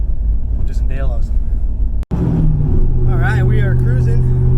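A turbocharged car with a Holley-tuned engine drives off at low speed, its steady engine drone and exhaust rising in pitch under a voice, close and fairly loud.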